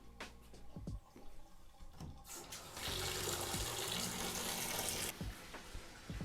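Tap water runs hard into a bucket for an aquarium water change, a steady loud splashing rush after a few drips and clunks, then easing at the end.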